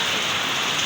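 Heavy rain pours down in a steady, dense hiss, loud and continuous with no break.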